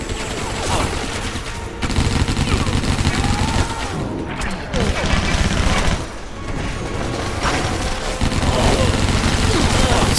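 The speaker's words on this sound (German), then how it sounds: "Schöne, schnelle Schüsse." Dense gunfire from the video game Stranglehold, set in a Chicago museum, fills the whole stretch: rapid pistol shots and bursts crackle continuously with booms and crashes mixed in, loud and close, under game noise and some talk.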